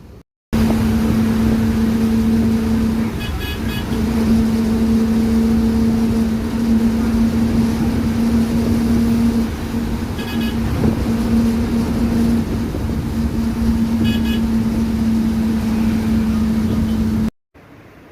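Interior of a moving KSRTC superfast bus running from Thrissur to Vizhinjam, a loud steady engine drone with a strong low hum and road rumble, occasional faint rattles, no talking.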